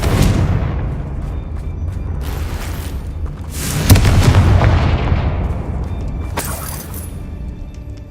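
Repeated Confringo fire-spell blasts in Hogwarts Legacy: heavy booming explosions, each followed by a crackling, shattering decay, land every few seconds over a rumbling backdrop.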